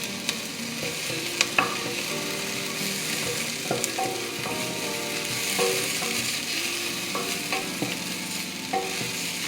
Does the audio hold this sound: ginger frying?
yes